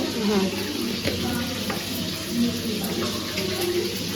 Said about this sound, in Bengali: আর এদিকে মাংস ভাজা হচ্ছে এখন